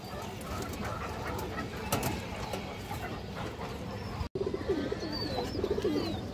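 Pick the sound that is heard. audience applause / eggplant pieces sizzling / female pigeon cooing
female pigeon cooing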